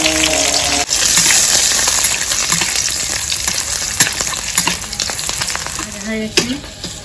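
Bay leaf and spices dropped into plenty of hot soybean oil, a loud sizzle with a burst at the start and crackling spits and stirring scrapes throughout; no talking.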